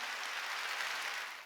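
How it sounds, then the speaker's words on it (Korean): A church congregation applauding during a Korean Sunday worship service, a brief burst of dense crowd clapping that holds steady and then fades at the end. "아 내가 박수 치랬어? 더 세게 치라고?"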